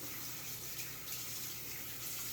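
Warm tap water runs steadily into a sink for hand washing, a continuous close splashing hiss with no voices.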